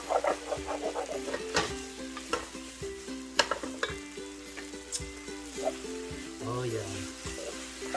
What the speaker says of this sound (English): You kind of scrape the egg from the bottom.